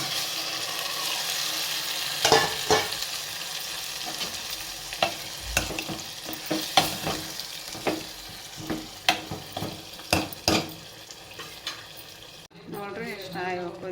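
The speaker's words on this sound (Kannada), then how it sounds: "ನೋಡ್ರಿ ಎಷ್ಟು ಕುದಿಯಾಕತ್ತ" Curry masala with onion and curry leaves cooking in a pan, a steady close sizzle and bubbling broken by repeated stirring scrapes, with a brief voice near the end.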